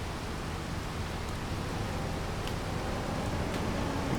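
Steady rain from the Farming Simulator 25 game falls as an even, continuous hiss at constant loudness, with no voices over it.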